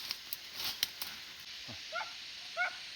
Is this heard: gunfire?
no